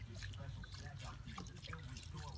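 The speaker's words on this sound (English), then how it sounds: "pour beef broth over here until the spaghetti noodles are pretty much submerged" Beef broth is poured over spaghetti noodles in a Dutch oven outdoors, giving a faint continuous trickling and splashing of liquid under a low rumbling background.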